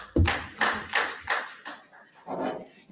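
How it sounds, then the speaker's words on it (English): A few people clap in a sparse, uneven rhythm of separate claps, close and fairly quiet, with no talking. "Another round of applause."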